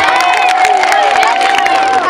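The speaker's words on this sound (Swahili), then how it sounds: "Piga makofi kwa Chama cha Mapinduzi." Political rally crowd for Chama cha Mapinduzi in Shinyanga, loud and close, clapping in dense rapid bursts under cheering and shouting voices that hold steady throughout.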